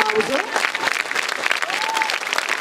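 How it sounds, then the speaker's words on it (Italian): Audience applause at a school inauguration after a handover to the new generation, loud and close clapping filling the space, with voices and a few whoops or cheers rising over it. "un grande applauso"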